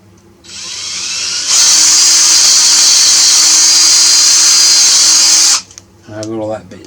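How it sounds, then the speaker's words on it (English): A power drill whines steadily for about five seconds, loud and close, spinning up then grinding continuously into metal on a 1980 Triumph TR7 water pump before cutting off abruptly. "drill out the first bit, and I've got some anti-seize compound here"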